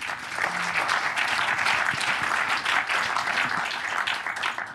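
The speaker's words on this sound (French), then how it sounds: "On peut les applaudir ?" Audience applause after a talk at a French community meeting, dense continuous clapping from a sizable crowd sustained for nearly five seconds at an even level.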